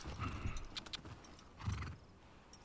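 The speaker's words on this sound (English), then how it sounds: "Ah, more horses." Horses in The Last of Us Part 2 video game clip-clop and whinny nearby, short hoof beats and a neigh over a faint background, no talking.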